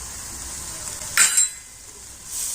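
A spoon stirs and scrapes through a spiced potato filling for puri after coriander leaves and garam masala go in. A soft, brief sizzling scrape sits over quiet background hiss, with a couple of faint metallic clinks and no talking.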